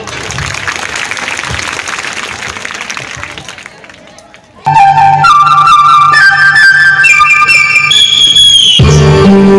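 Applause and crowd noise at a school annual function, scattered clapping and chatter that fade before loud amplified music takes over.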